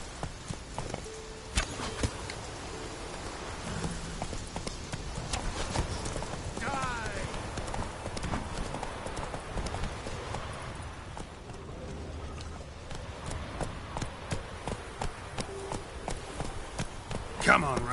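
Hooves of Roach, the horse in The Witcher 3, clip-clopping steadily at a trot for a long stretch, with a voice speaking at times over the rhythmic beats.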